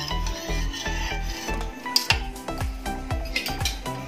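Paneer pieces stirred through milk in a pan, the spoon scraping and rubbing against the metal in a steady back-and-forth rhythm, close and moderately loud with a few sharper clinks.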